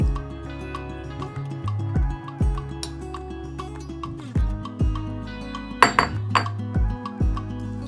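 Beaten egg is whisked into warm milk sweetened with sugar for a pudding, with repeated light clinks of a utensil against a bowl and a few sharper taps in an irregular rhythm.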